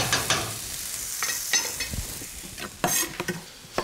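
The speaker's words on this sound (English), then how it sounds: "I can hear that corn popping and sizzling away." Corn and fresh summer vegetables sizzle in a pan and are stirred at intervals. A steady quiet frying hiss runs throughout, with scraping stir strokes and a few sharper pops.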